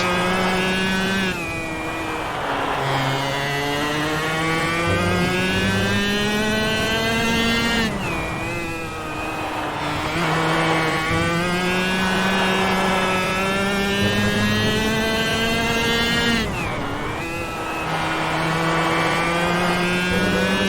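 X30 racing kart engines scream loudly through a lap of the Genk circuit in the video game Automobilista 1, with pitch rising steadily through each straight and dropping sharply at the corners in a repeating cycle.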